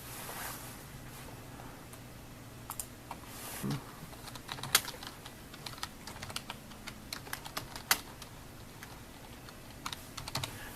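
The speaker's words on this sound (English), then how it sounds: "And you must also type a justification into the block." Steady typing on a computer keyboard, quiet and close, with irregular clusters of key clicks and a few sharper taps over a faint background hum, no voices.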